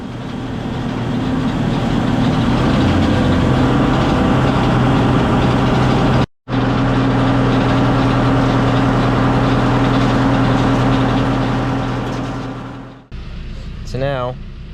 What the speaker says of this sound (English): tractor pulling a housekeeper